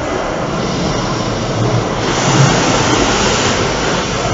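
High-impact water jets blast steadily against a car's windows and body inside an Esso car wash, a dense, loud roaring spray heard from within the vehicle that swells slightly midway and never lets up.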